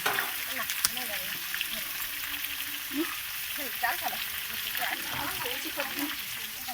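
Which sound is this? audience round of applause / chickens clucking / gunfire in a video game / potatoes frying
potatoes frying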